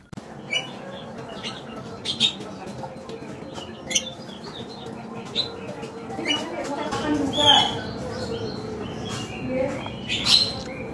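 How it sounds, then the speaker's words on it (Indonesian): Birds squawk and chirp in scattered bursts over a morning outdoor scene, with brief calls standing out above a steady low background, some louder cries near the end. "Agak berisik ya, burung-burung."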